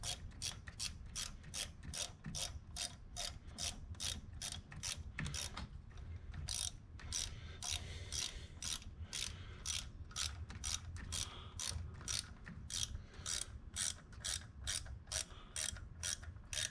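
A hand ratchet clicks rapidly and steadily while bolts are tightened on a 2011 Chevy Cruze during a thermostat and serpentine belt job, with close, sharp pawl clicks in long runs and a brief pause midway.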